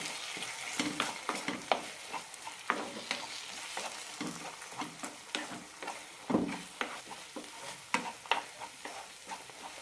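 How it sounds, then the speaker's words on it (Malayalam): Onion and tomato kurma masala is stirred in a pan, with repeated close scrapes and taps of the spoon over a continuous low sizzle. "നന്നായി വഴറ്റാം"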